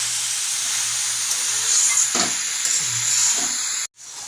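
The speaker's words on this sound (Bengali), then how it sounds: "এইভাবে কিছুক্ষণ ধরে কষাচ্ছি দেখছি বাঁধাকপি দিয়ে মশলাপাতি দিয়ে আলু ফালু দিয়ে ভালো করে মজে এসছে" Cabbage, potatoes and spices sauté in a pan with a continuous close sizzle and hiss, a few soft stirring scrapes, and a brief drop near the end.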